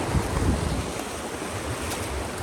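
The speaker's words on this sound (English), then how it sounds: "There's the waterfall" A waterfall along the Nipmuck Trail in Connecticut rushes as a steady broadband roar, close and fairly loud, with no voices over the continuous wash of falling water.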